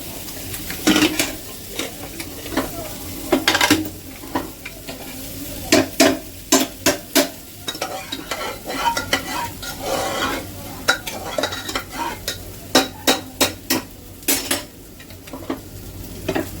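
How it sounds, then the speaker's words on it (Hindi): Onion and tomato tadka sizzling in a pan while a metal spoon stirs and scrapes, sharp clanks repeating irregularly over a constant close frying hiss, no voices. "प्याज टमाटर का तड़का है ये।"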